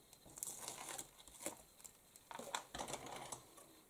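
Protective backing film peeled from double-sided adhesive tape while crafting a pop-up Christmas card: quiet close crinkling and tearing bursts in an irregular series, faint and with no voices.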